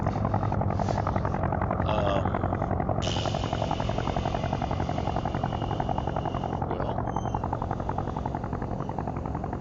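A WWI biplane engine from the Sid Meier's Ace Patrol game, a continuous loud buzzing, pulsing drone that holds steady throughout, with faint game tones layered in and no speech.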